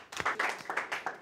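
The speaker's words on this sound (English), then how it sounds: "I want you all to give yourselves a round of applause" Students in a music masterclass classroom clapping for themselves, a small group giving a few scattered, uneven claps, quiet and close.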